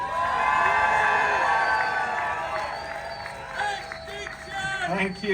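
A large outdoor crowd at an Extinction Rebellion climate rally in London cheers loudly with shouts and whoops that swell, then fade as the noise dies down.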